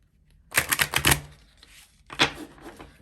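A tarot card deck is shuffled like playing cards, giving a quick burst of crisp, rapid riffling clicks. After a short pause comes a second, briefer riffle, close and fairly quiet with no voices.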